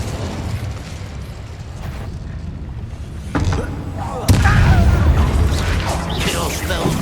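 A fire spell cast in Hogwarts Legacy, a sudden loud blast erupting about four seconds in over a busy stretch of game ambience and combat noise, with a voice speaking before it.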